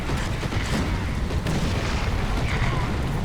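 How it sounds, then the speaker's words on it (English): Incoming artillery in the tank game War Thunder makes a dense, continuous rumble of booms and blasts. A heavy, loud wash of battle noise fills the scene, and a voice may sit underneath it. "More artillery coming in."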